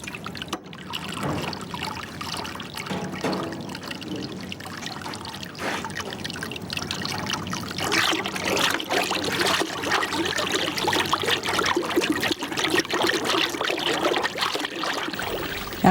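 Moving water swirls and trickles steadily as powder is mixed in for traditional Japanese papermaking, a continuous close liquid wash that grows slightly fuller partway through, with no voices.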